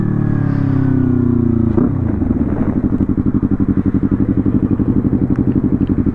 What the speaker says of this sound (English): We're on the 2016 Yamaha R3, just out here vibing.